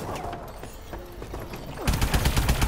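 AE4 energy gun firing in Call of Duty Advanced Warfare Exo Zombies, a rapid rhythmic burst of shots starting loudly partway through over a busy background of game sound.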